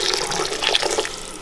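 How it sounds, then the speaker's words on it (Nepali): Hot water poured into a pot of cooking kalij pheasant broth, a continuous close splashing stream lasting over a second, with no voices. "लौजा यसमा अलिकति तातो पानी थपिदिउँ अलिकति झोल त चाहियो"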